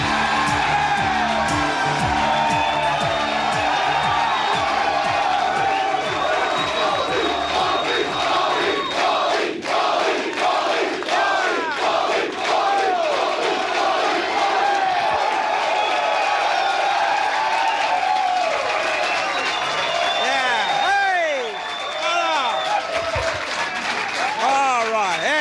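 A live studio audience on a 1986 talk show roars throughout, loud sustained cheering, whoops and clapping from a packed crowd, with an excited voice cutting in over the din.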